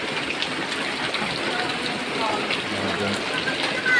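Floodwater in a neighbourhood rushes and gushes in a steady, close, noisy wash, with a faint voice briefly underneath.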